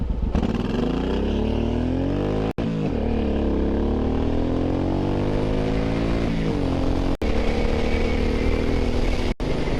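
A Suzuki M109R motorcycle cruising at highway speed around 80 mph in cold weather, a steady loud engine drone with wind roar and shifting pitch as the rider changes gears, no talk.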